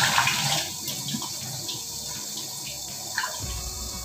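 Hot water is poured off a pot of boiled frozen corn kernels, a steady splashing gush that tapers to trickles and drips, close and moderately loud.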